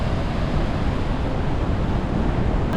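Iguazu Falls roars as a steady, loud, broadband rush of falling water, unbroken for the whole stretch with no voices.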